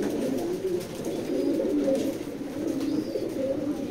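Racing pigeons in a loft coo steadily in low, throaty rolling phrases, several birds overlapping close by with no talk over them.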